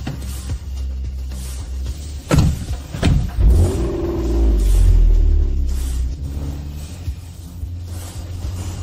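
Several cars in a ceremonial procession start up and pull away, a loud engine rumble swelling with revving as they move off, then settling into a steady low drone close by.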